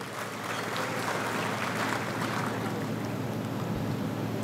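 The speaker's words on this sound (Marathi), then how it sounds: "टाळ्या वाजा त्यांच्याकरता." An audience at a political speech in Dabhadi claps in a dense, steady burst of applause heard from a little distance, with no voice over it.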